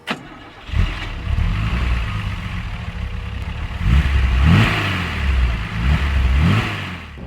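A classic car, a Mercedes 230 SL or Datsun 280Z Fairlady, starts up and revs: a sharp start, then a steady idle broken by a few rising revs of engine and exhaust, fairly close, no talk.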